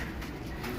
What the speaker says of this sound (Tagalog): Ayan, ito yung ating mga ibon guys.